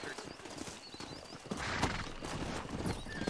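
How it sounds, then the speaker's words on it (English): Horse hooves clip-clopping in Red Dead Redemption, a steady galloping rhythm with an occasional whinny, set against busy game ambience and rising background noise. "Get on your horse, boy!"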